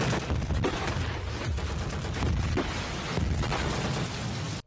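Dense, continuous barrage of explosions and rapid gunfire from an anime battle scene, loud and unbroken with overlapping blasts and bursts throughout.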